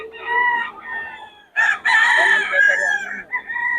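Rooster crowing at a Bocaue chicken market, a close, loud call in two bursts with clucking tones and faint market noise.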